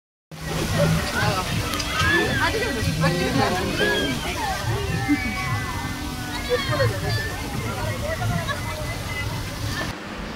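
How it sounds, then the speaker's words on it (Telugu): Water rushes and splashes steadily over rocks nearby, a continuous wash of sound beneath lively chatter and children's voices. "వాటర్ స్టోన్స్ పైన వాటర్ వస్తుంది కూడా"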